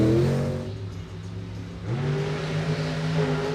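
A monster truck engine revs loudly in a domed arena at a Monster Jam event, with the roar dipping and then climbing back up in pitch over continuous crowd and arena noise.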